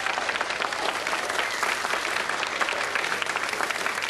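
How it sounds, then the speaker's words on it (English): Studio audience applause on a television game show, a dense, steady wash of clapping that stays loud and even throughout with no voices over it. "Will you give them a round of applause,"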